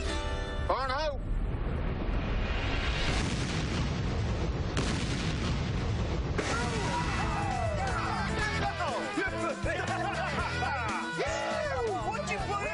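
A loud, sustained boom fills the scene as a device is blown up outdoors. Heavy rumbling and crackling debris run dense and continuous for several seconds, with voices shouting over it.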